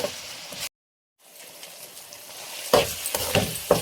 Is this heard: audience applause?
no